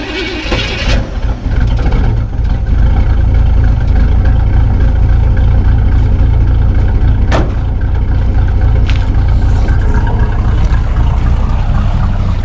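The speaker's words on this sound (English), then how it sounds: "Let's get a quick cold start in today." A truck's cold start: a brief cranking burst, then the engine catches and settles into a loud, steady, close idle rumble that continues for over ten seconds.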